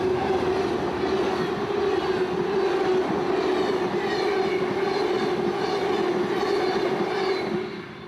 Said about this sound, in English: Amtrak 91 comes gliding past Dinsmore and into Jacksonville.